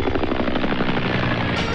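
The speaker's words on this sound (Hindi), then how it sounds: "मैं हेलीकॉप्टर में बैठकर मनाली के लिए रवाना हो गई" A helicopter flies with a loud, continuous rotor chop and engine roar that fills the whole moment without pause, heard in a Hindi film scene.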